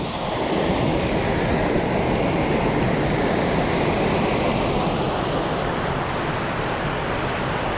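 A flooded, elevated spillway roars with rushing water, a loud and constant broadband surge that holds steady throughout with no voices.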